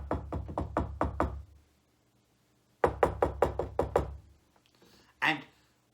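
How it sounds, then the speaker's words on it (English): Knocking on the door of a house: a quick run of about seven firm raps, a pause, then another run of similar knocks, closing with one heavier thud. "he went to a house and knocked"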